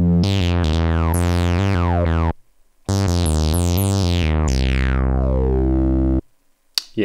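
Korg Monologue synthesizer on its first default sound, playing a quick melodic run of bright, buzzy sustained notes with sweeping filter chirps, a short gap, then another run ending in a long held note that decays.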